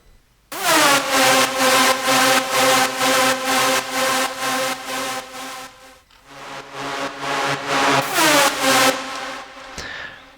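Extra EDM synths for the second drop of an ethnic EDM track: loud, buzzy, bright stabs pulsing in a steady rhythm, with a short gap midway before the pattern resumes, and no voices.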